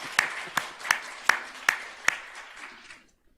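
During a Korean church worship service, a small congregation claps in unison: about six sharp, evenly spaced claps with a softer patter between them, then the sound quickly dies into silence.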